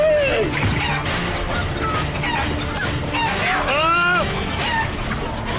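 Chickens cluck and squawk close by in a busy, irregular flurry, with a rooster-like call rising midway, while people talk over the noise throughout.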